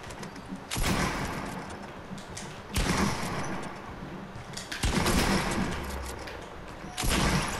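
Gunfire in the video game Fortnite, several loud bursts of shots arriving in clusters every couple of seconds over a constant game background, with no talking.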